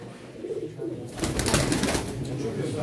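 A blue male pigeon coos at a pigeon auction, soft rhythmic coos near the mic, then a louder burst of wing flapping and crowd noise with people talking in the background.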